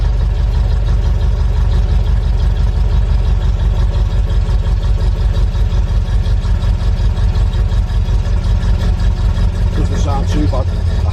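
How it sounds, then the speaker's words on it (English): A 1977 MGB GT with a cherry bomb exhaust idles close by. The engine throbs in a steady, loud, even rumble from start to finish. "I hate that exhaust. It's some kind of cherry bomb exhaust."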